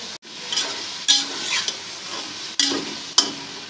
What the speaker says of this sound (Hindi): गोश्त मुसलसल जो है वो फ्राई हो रहा है